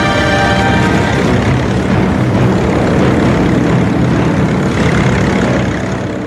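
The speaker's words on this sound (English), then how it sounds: "the carriers of the Imperial Fleet launched their level and torpedo bombers and their fighter escorts on the 250-mile flight to Pearl Harbor" Propeller engines of Japanese carrier-launched level bombers, torpedo bombers and fighter escorts bound for Pearl Harbor, a steady loud droning roar with no break.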